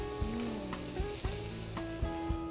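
Mackerel coated in rica spice paste sizzles on a grill, a steady crackling hiss with occasional louder pops and scraping knocks of a utensil, no voices present.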